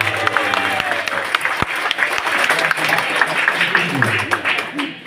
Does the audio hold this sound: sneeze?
no